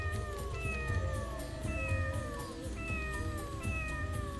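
A cat in the video game Tales of the Abyss meows repeatedly at a steady pace, each call a short falling tone, over a constant low rumble of background music.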